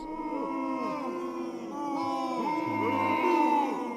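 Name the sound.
booing crowd sound effect from a Stream Deck button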